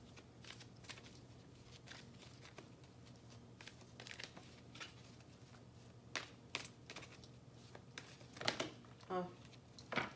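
Tarot cards being shuffled and handled, with soft riffling clicks and flicks at close range, sharper card snaps toward the end, over faint room hum and a quiet speaking voice.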